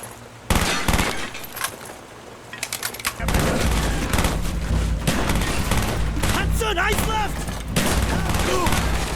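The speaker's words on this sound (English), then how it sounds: "the G11 in this game is probably the most satisfying sounding gun in gaming history" G11 gunfire in a Call of Duty campaign mission, with dense rapid bursts and heavy booms under game music and sound effects, sharp and loud throughout, while a voice speaks over it.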